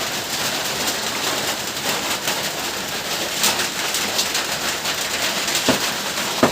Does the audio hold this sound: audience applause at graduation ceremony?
no